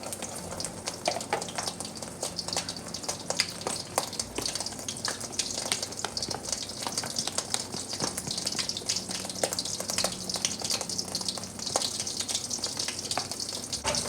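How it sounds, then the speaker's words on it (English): An egg mixture spatters and crackles in hot cooking oil, a steady dense sizzle that runs loud and close the whole time with no talking. "When the oil is hot, we mix the egg into it."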